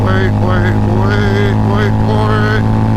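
A Harley-Davidson V-Rod Muscle fitted with a TAB Performance exhaust accelerates loudly, its engine drone rising and falling steadily through the clip.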